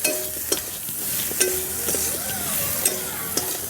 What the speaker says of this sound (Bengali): মশলা আর মাছ ভালো করে একটু কষে নেব।